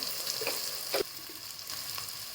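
Onion and tomato fry with masala in a pan for prawn rice: a steady, close hiss and sizzle with a few soft stirring scrapes.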